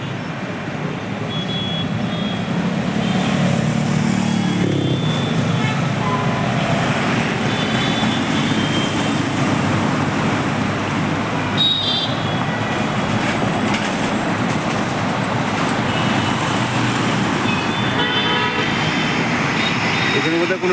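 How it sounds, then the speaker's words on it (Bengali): Road traffic on a city bypass beneath a metro line as cars pull away from a signal: a continuous engine rumble with occasional horn toots, and voices talking at times. "গাড়িগুলো সিগন্যালে রয়েছে, সিগন্যালে ছাড়লো এখান থেকে।"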